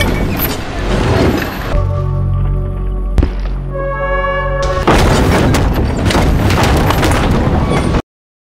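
Catapults bombarding a castle in a dramatized siege: loud booming impacts and rumbling blasts, a sharp crack in the middle, with a tonal musical passage between the bursts.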